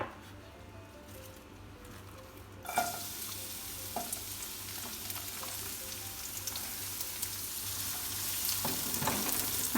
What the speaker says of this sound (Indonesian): Kalau minyaknya sudah panas, masukkan bawang putih dan bawang merah terlebih dahulu.